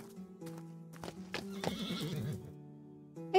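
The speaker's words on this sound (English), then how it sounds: "I heard a horse." A horse in Tavern Manager Simulator lets out a loud, clear whinny with a wavering pitch. Hoof clip-clops and soft background music accompany it.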